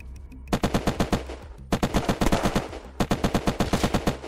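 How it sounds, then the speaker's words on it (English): Rapid automatic gunfire in the video game Unturned, three sustained bursts of sharp, evenly spaced shots with brief pauses between, fairly loud and close with no talking. "I spawned next to my base and I already hear shots"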